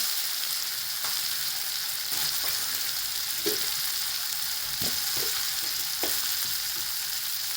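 Ground spices and garam masala sautéing in a pan for a guar bean kheema give off a steady broadband sizzle, with scattered scraping stir strokes and light clicks over the constant frying hiss.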